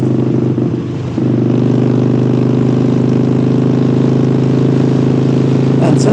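A motorcycle exhaust drones loud and steady, a continuous low engine rumble holding its pitch for about six seconds with no gaps.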